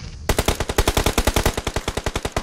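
Rapid automatic gunfire in the mobile battle royale game PUBG Mobile, a loud, evenly spaced burst of about two dozen shots that starts abruptly after a brief quiet moment and runs to the end.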